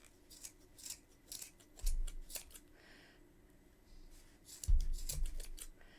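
Scissors snip through a bundle of yarn for a floofy pom-pom on a crocheted Christmas hat, giving several quiet, irregular cuts with two heavier clusters of crunching snips, close and alone.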